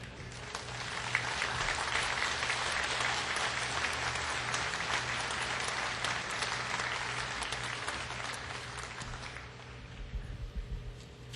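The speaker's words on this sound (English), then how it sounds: "applause might not be typical at a memorial" Sustained crowd applause at the Caltrans Workers Memorial in 2014, steady and full for about ten seconds before thinning out toward the end.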